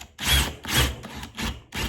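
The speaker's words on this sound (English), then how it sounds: "What we're gonna do is pre-drill" A power drill bores pilot holes into a wooden circle-cutting jig for a table saw, whirring loudly and close in four short bursts with brief pauses between them, no talking.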